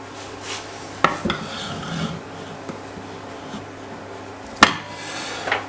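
A metal cake tray set on a honey cake and flipped over, giving a sharp clank near the start and another louder clatter later, with soft rubbing and scraping between, close and without talk.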